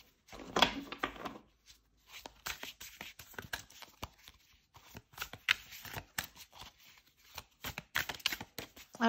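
Deviant Moon tarot cards being shuffled by hand, soft papery riffles and slaps coming in uneven bursts with short quiet gaps, close and fairly faint, with no talk.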